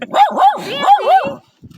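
A pet dog gives a quick burst of about four loud, close barks and yips in a rising and falling pattern, then goes quiet apart from a faint trailing sound.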